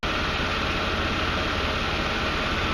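A Chevrolet S10 Blazer with a 4.3 engine and a head gasket problem idles steadily, a constant low rumble close by, just after starting on a slightly windy day, with no talking.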